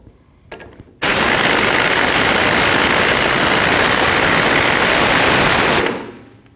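Power impact tool driving a front strut bolt home on a 2012-2021 Nissan NV2500, one loud continuous burst of rapid hammering rattle lasting about five seconds, then winding down.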